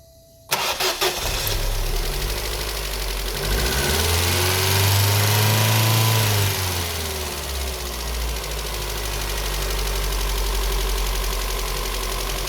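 A car engine cranks and catches, then revs up with a rising, swelling roar before settling into a steady, loud idle, heard up close with no talking.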